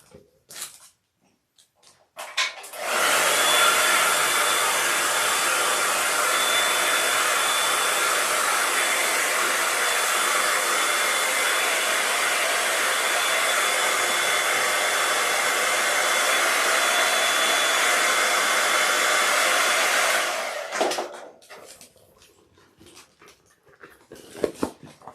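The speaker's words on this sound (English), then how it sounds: "I'm going to give this a shot of heat real quick over at my hairdryer" A hair dryer roars steadily at close range for about eighteen seconds, then cuts off, leaving quiet room noise and small movements.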